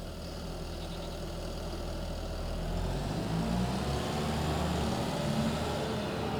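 A tractor engine idles in a farming video game, a continuous low mechanical drone that swells slightly louder partway through, steady and alone with no talking.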